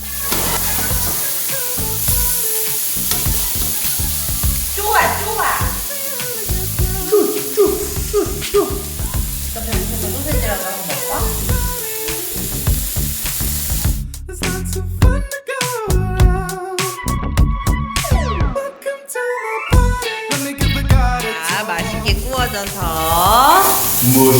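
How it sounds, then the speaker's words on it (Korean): Meat sizzling as it grills, a steady close hiss of frying under chatter and clinking, later broken by sharper clatter and bright tones. "강건 엄마가 아주 맛있게 고기 구워주고 있어요"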